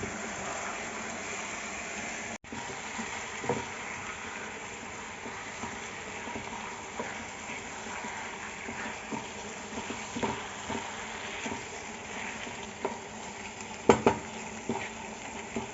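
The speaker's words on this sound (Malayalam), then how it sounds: "ഇനി നമുക്കിതെല്ലാം കൂടെ ഒന്ന് മിക്സ് ചെയ്യാം." Chicken with pepper powder being stirred in a frying pan, a steady soft sizzle with scattered scrapes and clinks of a utensil against the pan, no voices.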